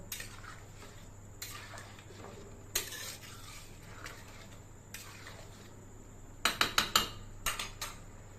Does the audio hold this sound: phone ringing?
no